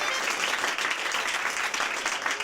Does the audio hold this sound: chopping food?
no